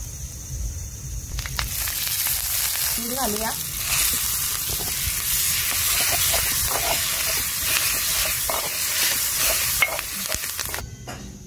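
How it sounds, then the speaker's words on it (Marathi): Garlic cloves, green chillies and coriander fry in oil on a griddle over a wood-fired stove, giving a loud, steady sizzling hiss with occasional stirring scrapes while someone speaks briefly. "मी 2-4 लसणाच्या पाकळ्या आणि 2-4 मिरच्या घेतल्यात आणि थोडीशी कोथिंबीर घेतली। आता आपण तव्यात घालू आणि एक माप तेल घालूया।"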